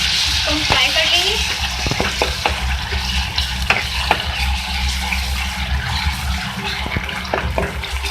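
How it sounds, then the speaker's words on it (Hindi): Ginger garlic paste sizzling in hot oil in a karahi, a steady close frying hiss with occasional stirring clinks and scrapes throughout. "ऑयल में मैं डालूंगी अदरक लहसुन का पेस्ट।"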